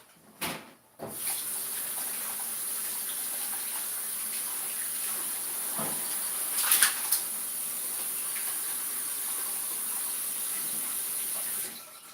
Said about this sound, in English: I want to rinse off these tomatoes and this asparagus real quick